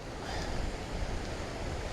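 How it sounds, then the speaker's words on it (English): Big ocean waves roll in along the Wales coast on a rainy day, a continuous roaring wash of surf with gusty wind noise, loud and unbroken throughout. "there's some big old waves coming in"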